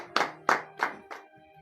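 A congregation claps during a morning prayer service: four separate loud claps about a third of a second apart, with no talk over them.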